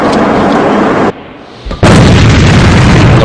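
A grenade blast in the online shooter A.V.A during a competitive match: a loud, dense explosive roar, a brief drop to quieter rumble, then a second powerful boom that keeps thundering to the end.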